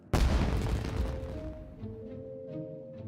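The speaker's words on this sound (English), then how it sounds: "It sounded like fireworks." A firework explodes in the Inazuma region of the Genshin Impact video game, a single sudden loud boom that rolls away into a fading rumble with faint ringing tones afterward.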